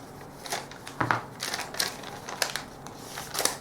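Scissors cut out a paper pattern piece for a garment in a series of close, crisp snips and rustles, with irregular bursts at intervals of about half a second and no talking.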